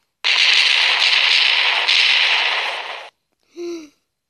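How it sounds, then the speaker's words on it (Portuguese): A long, loud roaring burst of explosion noise lasting about three seconds in Minecraft, from dynamite (TNT) set off in a big blast, then silence and a short final blip; no talk over it. "A explosão vai começar."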